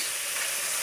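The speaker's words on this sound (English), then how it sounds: "So you're just sauteing your onions." Onions sauteing in a pan, a dense continuous sizzle and crackle heard up close and fairly loud throughout a brief moment, with no voices.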